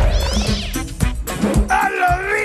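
An animated cat character gives a series of loud, close meows and wavering caterwauls, several drawn-out cries in quick succession.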